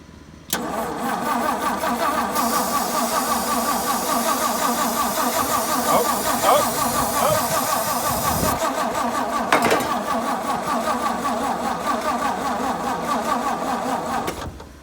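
A 1963 Ford F100 that hasn't started in years cranks over slowly, a steady, loud, continuous churning of the starter and engine that runs for about fourteen seconds without catching, with no voices.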